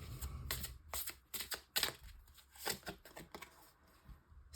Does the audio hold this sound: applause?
no